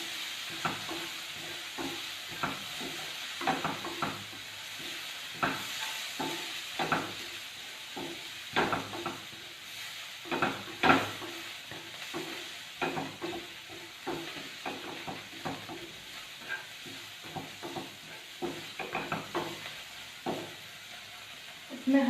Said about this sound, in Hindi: मीडियम आंच में रख के हम फ्राई कर लेंगे